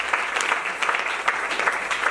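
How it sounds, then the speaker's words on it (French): A church congregation applauds during a French-language sermon, producing a full, lively wash of clapping with scattered sharper claps. "Si on peut applaudir"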